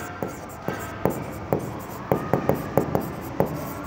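Chalk or marker writing on a board in a bank accounts lesson: about a dozen sharp taps and strokes in an uneven rhythm, fairly close, with no speech over them.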